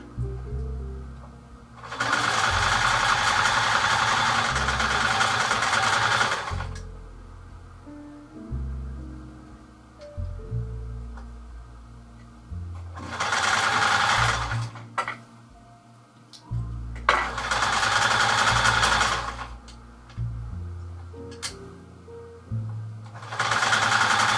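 Sewing machine reinforcing the front seam of a 1930s dress, running in several bursts of fast stitching with pauses between them, close and fairly loud.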